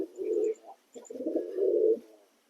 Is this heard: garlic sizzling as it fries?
no